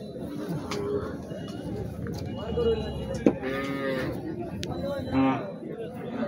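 Cattle moo repeatedly at a busy Bangladeshi cattle market, with several loud nearby calls standing out over a constant background of crowd chatter and babble.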